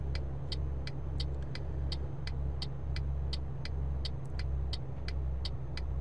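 Truck engine in Euro Truck Simulator 2 pulling uphill with a Volvo ahead, a steady low droning rumble with regular faint high clicks over it, no talk.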